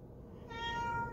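A house cat gives a single drawn-out meow, close and clear, rising out of a low background murmur with no speech over it.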